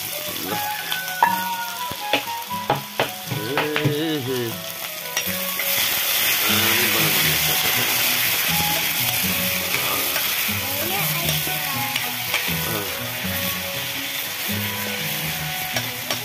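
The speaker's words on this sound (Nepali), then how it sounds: "पोटेटो फ्राई गरिन्छ" Potatoes frying in a pan with a steady sizzle, stirred now and then with scraping and clattering, close up and continuous.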